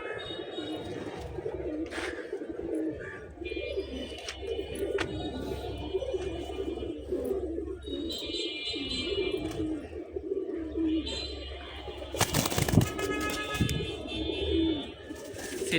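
Gorra and Giribaz pigeons at a market stall, including a large silver male, coo in low rolling murmurs under steady crowd noise, with occasional chirps and a sharp clatter late on.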